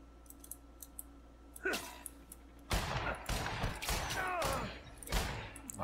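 Gunshots in The Outer Worlds video game, a faint click early on, then a burst of sharp sharp reports clustered near the end over a low steady hum.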